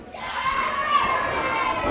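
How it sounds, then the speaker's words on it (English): Children's crowd at a wrestling match, a dense sustained mass of young voices cheering and shouting together, steady and fairly loud throughout. "Keep cheering for Brayden."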